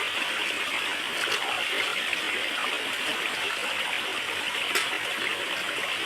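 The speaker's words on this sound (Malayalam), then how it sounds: "വെള്ളം കോരി ഒഴിച്ച്" Water is poured over Kaiser the dog during a bath, a continuous loud rushing and splashing flow that holds steady throughout, with no voices.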